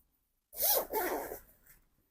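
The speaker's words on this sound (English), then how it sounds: "Open up the zipper, bend down the zipper like so" A zipper on a pair of sewn flare pants is pulled open in two quick, close strokes, the first longer than the second, in an otherwise quiet room.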